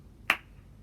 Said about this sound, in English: instead of saying it, you can clap